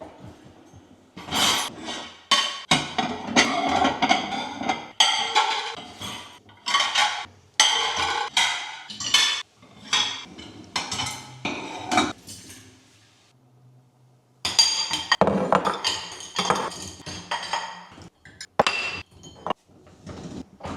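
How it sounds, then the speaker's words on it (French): Dishes, glasses and cutlery clink and clatter as a dishwasher is emptied and the tableware is put away in a home kitchen, with dense bursts of close clanking, one brief pause and then more clatter. "je vais m'atteler à vider le lave-vaisselle et à ranger la vaisselle"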